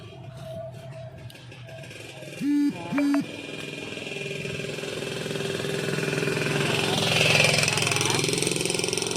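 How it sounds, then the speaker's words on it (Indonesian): A motorcycle passes a fruit harvest beside a house: engine noise swells gradually from a low hum to a louder drone near the end, with two short horn-like tones early on. "tadi ada motor lewat."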